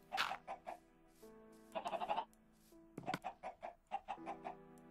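Chickens in Minecraft: Switch Edition cluck in short, bright bursts, several close together with a longer squawking run in the middle, loud and near with no talking.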